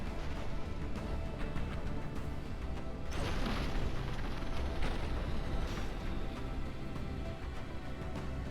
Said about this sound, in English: He's actually got a load of rockets being fired at him,